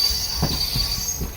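A nine-coach Sanghamitra Express passenger train rolls along the track, a close rumbling roar with rhythmic wheel thumps and a faint high squeal over a short stretch.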